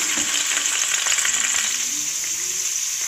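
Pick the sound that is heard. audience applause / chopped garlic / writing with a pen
chopped garlic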